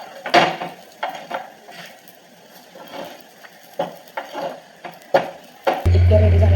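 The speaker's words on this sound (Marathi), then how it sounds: "खालच्या साईडने आता चांगला पलटून घेऊ टिक्क्या" Broccoli tikkis are turned over in a frying pan, with a run of sharp clacks and scrapes of a spatula against the metal. A burst of loud steady sizzling rises near the end.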